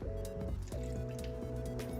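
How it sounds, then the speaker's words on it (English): Water is poured into a pot of vegetables for a detox soup, making a close, continuous gurgling fill with a bubbly rising pitch and a brief break in the flow partway through. "I'm adding water here, and all I do is add water"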